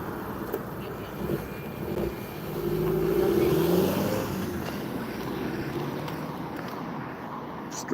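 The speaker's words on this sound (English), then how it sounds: "He just got out of his car and shook his leg and then drove off." A car drives off along a street, its engine rising in a muffled swell that peaks and then fades away into the steady outdoor background noise.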